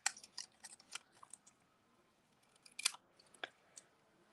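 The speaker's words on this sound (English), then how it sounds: "I'm going to cut these words apart" Scissors snip through paper to cut printed words apart for a stamping craft, giving quiet irregular clusters of crisp cuts with a pause in the middle, close and soft.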